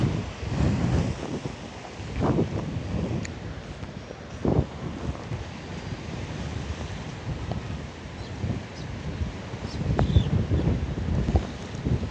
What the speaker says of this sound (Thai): ไปดูตรงที่ขึ้นลมแรงนะครับ